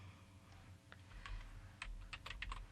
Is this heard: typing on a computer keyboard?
yes